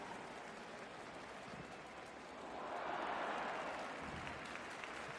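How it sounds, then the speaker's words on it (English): A J2 League football stadium crowd at Fagiano Okayama applauds, a steady wash of distant clapping that swells briefly in the middle, with no talk over it. "Appreciated by the crowd, even though it didn't come off"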